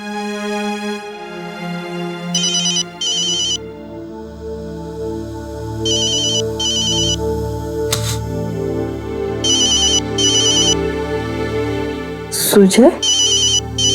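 A phone rings in repeated bursts of electronic trilling during a dramatized scene, loud and close over a steady music bed, with a voice briefly calling out near the end.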